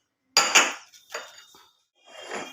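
A ceramic tea cup is swapped out, giving three short, close clinks and knocks separated by brief silences.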